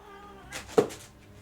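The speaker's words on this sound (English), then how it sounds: "Your cat on the mic." A cat close to the microphone lets out a single short, loud meow, with quieter rustling before it.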